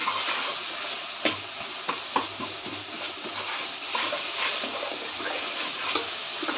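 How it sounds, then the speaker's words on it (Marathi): Onion sautéing in a pan for a cowpea curry, a soft steady sizzle with occasional sharp clicks of stirring, fairly close and without talk. "कांदा व्यवस्थित गुलाबी परतून घ्यायचा"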